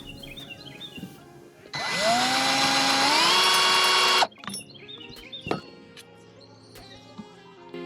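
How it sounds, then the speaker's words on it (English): A power drill whirs loudly for about two and a half seconds, pre-drilling a hole for a camper vent cover, its pitch rising as it spins up, then cuts off, followed by quieter clatter and handling noises. "we're going to do our pre-drill."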